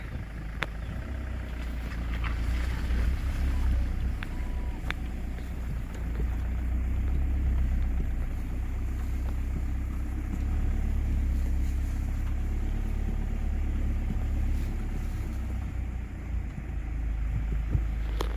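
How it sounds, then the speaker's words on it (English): A car engine idles and rumbles steadily at close range while the vehicle is eased into a woodland camping spot beneath trees, with a low continuous drone and no talking. "I'm going to try and get the car in there"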